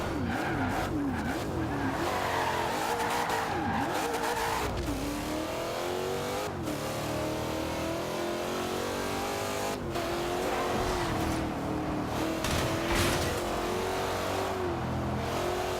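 A Corvette race car in Forza Horizon 2 drives at speed, its engine roaring and revving continuously through rising and falling gear changes, loud and close, with occasional tire squeal.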